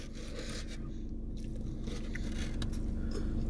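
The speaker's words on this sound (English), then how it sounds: "Next is the crunch roll." Someone bites into a crunch roll sushi, giving a steady, close crunching and scraping texture with no clear pause, loud against a busy room background.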